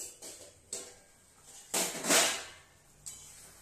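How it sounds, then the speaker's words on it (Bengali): A pot lid lifted off a pan of chicken being cooked on the stove, giving a brief metallic clatter and scrape, a louder clank near the middle, then a small knock, close by and fairly quiet. "তো ঢাকাটা আমি খুলে নিচ্ছি।"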